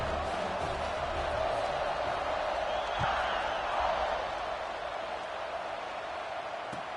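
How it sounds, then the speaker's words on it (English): Stadium crowd in an NCAA college football video game on PS5 buzzing steadily after a touchdown, a broad continuous roar at moderate level with no talk over it. "this crowd is buzzing after that last score."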